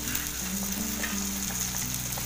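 Prawn masala frying in a pan over a high gas flame just after fresh coriander goes in, giving a steady, close sizzle with faint stirring and no talk.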